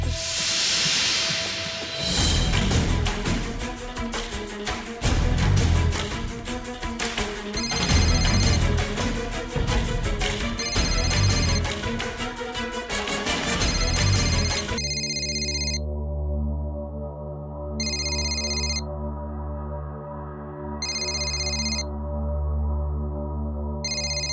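Unanswered phone call in a Hindi family comedy film scene: a repeating ringback tone pulses in regular bursts, following a stretch of busy, hissing background sound with no talk.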